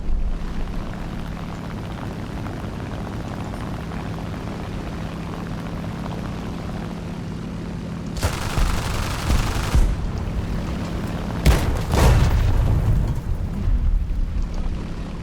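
Game audio of a MiG-15 jet dropping bombs over Wake Island: a steady engine drone gives way to a loud burst of explosions and gunfire around the middle, then further blasts follow.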